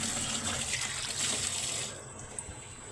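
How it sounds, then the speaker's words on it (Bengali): Onion stalks being washed in water, with a steady running, trickling wash close by that eases into a quieter splash near the end; no one speaks. "পেঁয়াজের কলিগুলো আমি সুন্দর করে ধুয়ে নিচ্ছি।"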